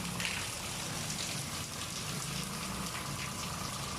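A steady, loud hiss of high-pressure water spraying continuously while cleaning a TCL split-type air conditioner, with no pauses and no voices.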